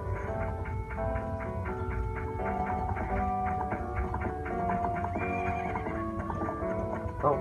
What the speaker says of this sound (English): Oh, horse coming.